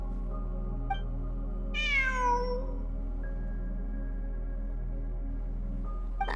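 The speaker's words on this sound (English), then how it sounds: "I'm not hearing things. It really is a cat." A cat meows once inside the video game Genshin Impact, a clear rising-falling call near the listener over a steady low background hum, with no talking.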